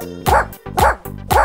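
Three evenly spaced, close dog barks on a nursery rhyme song about a farmer's dog, loud and clean against a quiet backing.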